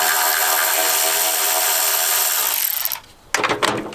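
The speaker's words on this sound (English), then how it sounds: "I'm starting to get this wiper motor out right now" A power tool whirs loudly and steadily on bolts holding a car wiper motor, then cuts off and starts again in short bursts.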